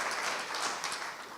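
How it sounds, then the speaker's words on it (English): Audience applauding panelists at a water policy summit forum, a steady broad wash of clapping filling the whole moment at moderate level with no talk over it. "let's give our panelists a big round of applause for all their wisdom and hard"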